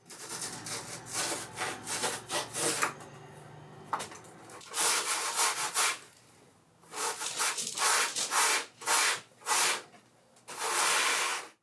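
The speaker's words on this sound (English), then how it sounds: "you just have to go over the whole board super lightly with some sandpaper and sand down those ridges" Sandpaper worked by hand over a CNC-shaped surfboard blank, smoothing away machining ridges: repeated close rasping strokes in bursts, separated by short pauses, with no talk.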